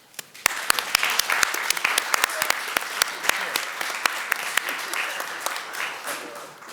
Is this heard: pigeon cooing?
no